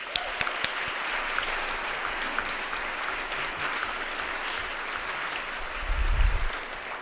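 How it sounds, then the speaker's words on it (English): Sustained applause fills a hall at a master's program graduation ceremony, steady even clapping from a sizable audience, with a low rumble near the end. "A round of applause to our family and friends."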